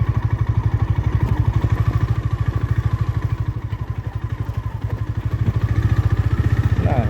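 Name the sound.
motorcycle riding off-road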